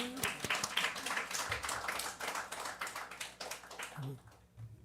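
A congregation at a Korean church Friday overnight worship service claps together in a busy patter that carries for about four seconds before fading, with a voice coming in near the end.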